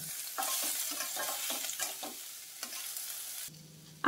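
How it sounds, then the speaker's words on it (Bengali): Cauliflower stems frying in a pan are stirred, with a steady loud sizzle and scraping strokes of the utensil close by, then the frying fades to a quieter hiss near the end; no talk. "একবার একটু নেড়ে দেবো যাতে নিচটা ধরে না যায়"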